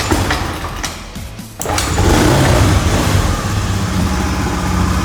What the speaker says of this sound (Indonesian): Baik, kita hidupkan mesinnya.